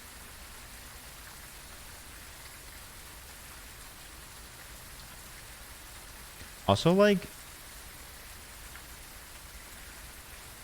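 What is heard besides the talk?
rain falling in a video game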